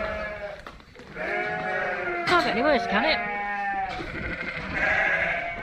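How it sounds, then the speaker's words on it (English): Sheep bleat loudly and repeatedly nearby on a farm, their wavering cries overlapping, while someone speaks briefly in between. "Sheep."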